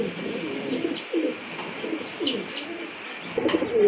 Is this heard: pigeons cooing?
yes